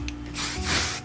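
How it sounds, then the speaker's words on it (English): Two short hissing bursts of hair shine spray, close up, the second slightly longer. "I'll spray some over here."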